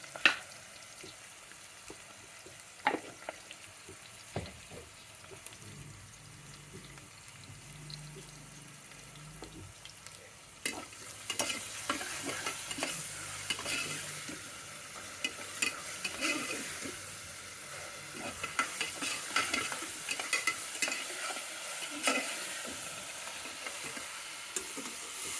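Garlic paste frying in a pan and being stirred, with quiet early scraping giving way to louder, steady sizzling and spatula scraping for the rest of the stretch, with no talking.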